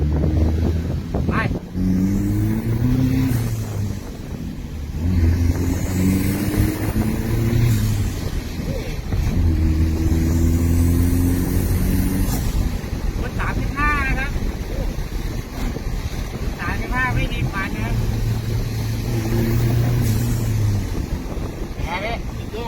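A Chevrolet All New pickup fitted with an F55 turbo, 6-speed, accelerating hard through the gears, its engine droning loud and close with rising pulls and shifts amid wind noise, while someone talks over it.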